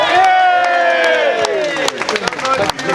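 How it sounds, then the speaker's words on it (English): An outdoor crowd at a digital ID protest claps and cheers, with voices whooping over scattered applause that thins into individual claps toward the end. "Come on, give him another round of applause."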